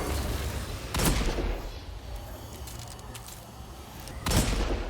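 Gunfire in the Destiny 2 Crucible, heard as two loud, sharp shot bursts about three seconds apart over a low, steady game ambience.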